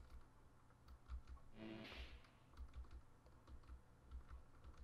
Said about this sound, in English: She will stop typing when I get close.